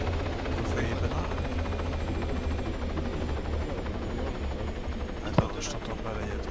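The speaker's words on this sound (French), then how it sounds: "il y a trop de bruit avec l'hélico" Helicopter in the ArmA video game, a steady, loud rotor and engine drone that fills the whole stretch, with one sharp click near the end.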